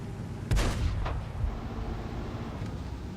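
A tank cannon in World of Tanks fires one sharp, loud blast that booms and rolls off, followed by a smaller second report and a lingering low rumble.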